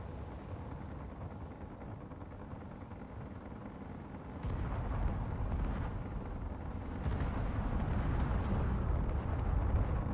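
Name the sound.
missile explosion in video game Space Engineers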